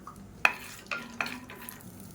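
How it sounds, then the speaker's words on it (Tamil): Peanuts roasting in hot oil in a pan, faint sizzle with a few sharp stirring clicks and scrapes close by, no talking. "எண்ணெய் சூடாயிடுச்சு. 1/2 கப் அளவுக்கு வேர்க்கடலை சேர்த்து வறுத்துக்கலாம்."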